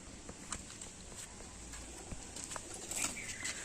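Kaldom pigeons in a bird-seller's setting make faint coos and soft rustles and light pattering movements, scattered quietly over a hissy room background without talk.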